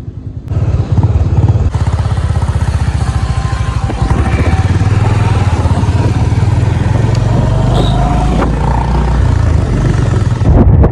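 A Honda CB350RS motorcycle engine roars steadily up close for several seconds, a loud continuous rumble with slight shifts in pitch as it rides.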